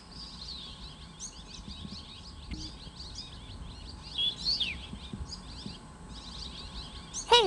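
Birds chirp and twitter repeatedly in a forest, short high calls overlapping at moderate distance over a low background rumble, with one sharper, closer call near the end.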